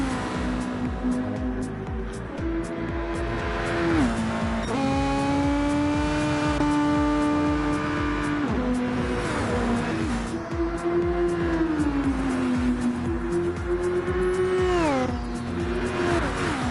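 Race cars lapping Spa in a racing game, engines droning at high revs with rising and falling pitch through gear changes and passes, loud and steady throughout with no talk over it.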